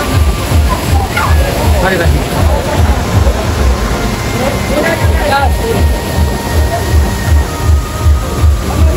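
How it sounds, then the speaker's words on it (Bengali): Steady rushing and splashing water from an artificial waterfall pouring down fills the clip with constant loud wash and a low rumble beneath, with voices talking over it, in Green Valley Park, Natore. "পানিটা হয়তো বা উপর থেকে একদম নিচে পড়ছে"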